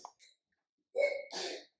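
A single close, sharp sneeze with a quick breathy intake before it, in an otherwise quiet room.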